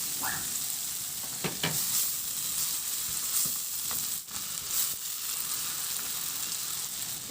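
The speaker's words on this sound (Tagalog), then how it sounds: "Igisa ko na rin yung bawang. Ilagay ko na rin yung sibuyas." Garlic and onion sauté in a pan for a pork ribs dish. A bright, steady frying hiss plays up close, with a few light scrapes and clinks of stirring.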